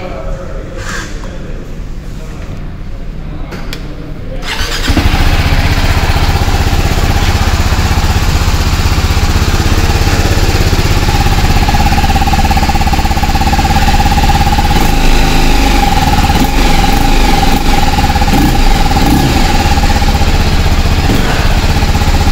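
A TVS Apache RTR 310 motorcycle with a 310cc engine starts up and runs steadily, close and loud, holding an even idle for about seventeen seconds after a quieter opening stretch.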